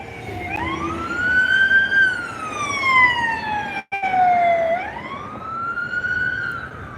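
Wailing emergency vehicle siren sweeping up and down in pitch, fairly loud and steady, sounding like it is approaching along a street, with no talk over it.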